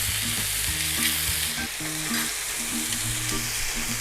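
Pork chops frying low and slow in a pan, a steady close crackling sizzle with occasional pops and scrapes, no voices.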